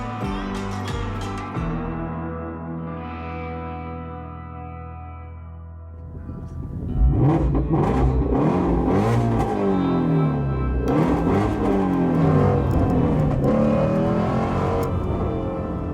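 A Ford GT350R's Voodoo V8 on a canyon run: a loud, steady idle burble that swells into sustained hard revving and aggressive acceleration, exhaust roaring close by with no talk.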